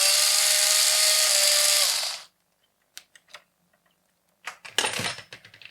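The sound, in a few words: unscrewing the battery terminal of a Goal Zero Yeti 400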